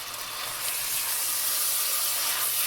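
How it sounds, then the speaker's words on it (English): Pork loin searing in a hot pan, a steady broad sizzling hiss that holds without a break at moderate loudness. "getting a nice sear on the bottom of it"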